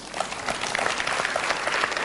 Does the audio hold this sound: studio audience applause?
yes